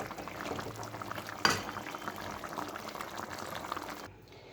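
Drumstick and potato curry bubbling steadily in a pot, a close, continuous simmer with one brief sharper splash partway through, and the sound cutting off abruptly near the end.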